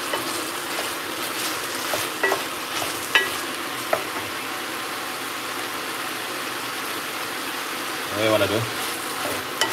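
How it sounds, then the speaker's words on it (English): A spoon stirs homemade chicken soup with dumplings and pumpkin yam in a pot, soft scraping and bubbling sizzle running steadily, with a few sharp clinks and a brief voice near the end. "Give it a stir."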